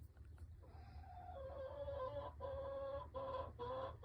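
A silky Wyandotte Olivager mix hen clucks softly and keeps up a low, continuous murmur of clucks with a few short breaks, faint against steady low background rumble.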